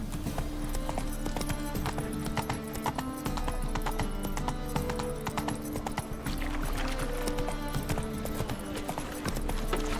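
Roach, the horse in The Witcher 3, gallops with a dense, continuous clip-clop of hooves over a busy game soundscape, loud and unbroken throughout.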